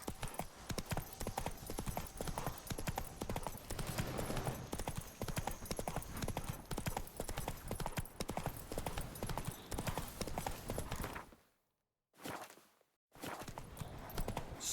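The horse Roach trots along in The Witcher 3, giving a continuous rhythmic clip-clop of hooves up close. The hoofbeats break off for about a second near the end before resuming.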